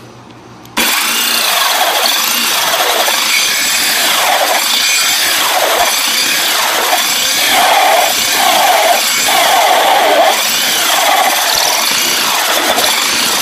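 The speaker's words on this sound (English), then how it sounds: "Right here is how you drill a 4-inch hole." A 4-inch hole is bored with a power tool, a loud, harsh grinding rasp that starts suddenly and keeps up with rhythmic surges in pitch and pressure.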